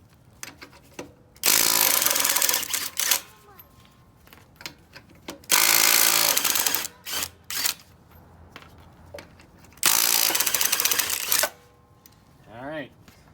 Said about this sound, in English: And we'll start with the electric and see what happens.